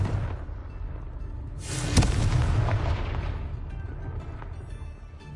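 Confringo fire spell explosion in the Hogwarts video game, a sharp blast followed by a rumbling, roaring boom that swells and slowly fades over several seconds.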